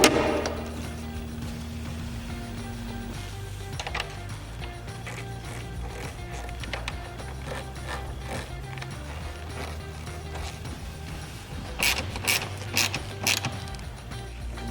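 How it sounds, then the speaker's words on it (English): A ratchet with a 10mm socket removes the bolts on a Jeep Wrangler JL coolant overflow tank, giving repeated clicking ratchet sweeps over a steady low engine-bay hum, with a faster run of clicks near the end. "10mm to remove the coolant overflow tank"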